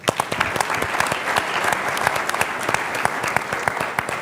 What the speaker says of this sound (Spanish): Así que un aplauso también para Carlos.